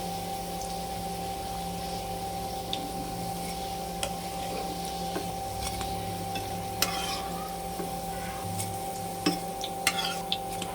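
Raw banana and cabbage fritters fry in hot oil with a steady, even sizzle, broken by a few light clicks and scrapes as they are turned and lifted; no voices.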